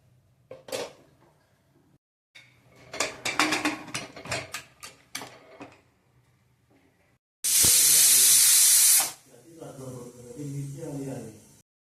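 A pressure cooker on medium gas cooking masala rice with green peas lets out a loud, sharp steam whistle lasting over a second, followed by fading hiss, after bursts of clattering utensils; a voice talks afterward.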